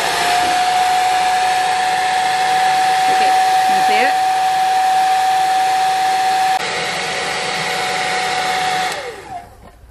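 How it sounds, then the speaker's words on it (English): Loud, steady roar of a blow dryer with a high whine, briefly shifting in pitch partway through before cutting off near the end. "So now we take the blow dryer and hope it works."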